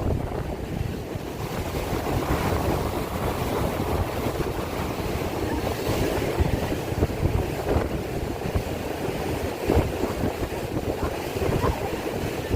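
Steady rushing of water and wind around a moving boat at sea in the Gulf of Saint-Tropez, continuous broadband noise with occasional thumps of waves against the hull.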